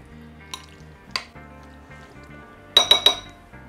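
A spoon clinks against a bowl while crème fraîche is mixed into a cooled apple filling, with two single clinks and then a quick triple clink, bright and close over quiet background.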